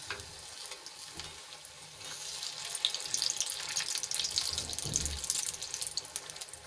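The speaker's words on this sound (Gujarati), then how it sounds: "આપણે આ રીતે એક પછી એક ખીરામાં વડાને એડ કરતા જઈશું" Batter-coated batata vadas, spiced potato balls in gram flour batter, sizzle and crackle in hot oil with a steady frying hiss that swells midway, alongside faint kitchen clatter and a soft thump.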